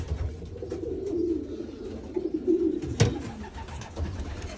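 Racing pigeons cooing inside a loft where eggs are being laid, a steady run of low, throaty coos near and continuous, with a soft flutter or bump partway through and no talking.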